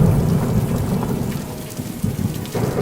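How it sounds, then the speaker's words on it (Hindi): A cartoon thunderstorm with heavy rain: a steady, loud downpour hissing on surfaces, with low rumbling thunder rolling underneath, continuous and close, and no voices. "भयानक बारिश ने विकराल रूप ले लिया।"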